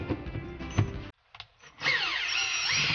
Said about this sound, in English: Today I'm using a drill because it's going to go a lot faster.